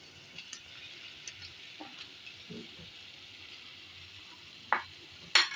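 Mashed potato being stirred into spiced stuffing frying in a pan for stuffed tomato chaat: soft scraping and stirring under a faint, steady sizzle, with a couple of sharper spoon clacks near the end.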